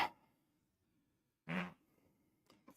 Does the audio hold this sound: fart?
yes